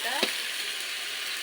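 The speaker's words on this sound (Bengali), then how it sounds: "কবুতরের গোশ রান্না হচ্ছে।" Pigeon meat with spices sizzles in hot oil in a pan, a brief burst of bright frying hiss with a sharp clatter near the start, then steady sizzle.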